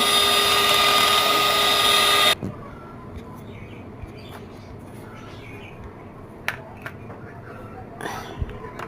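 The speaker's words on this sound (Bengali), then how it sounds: "আমি প্রথমে আটটা ডিম বেকিং করে নিচ্ছি" An electric beater whirs loudly and steadily for a couple of seconds while beating eight eggs for a vanilla sponge cake, then stops, leaving quiet kitchen noise and a few faint clicks.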